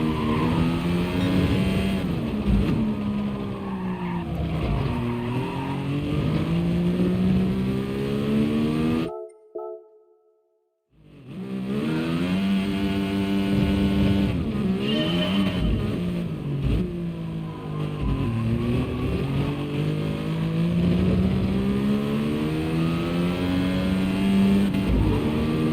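A race car in GT Sport screams through repeated gear changes, its engine pitch climbing and dropping in a steady cycle, loud and up front, with a brief near-silent pause as throttle lifts before it roars back.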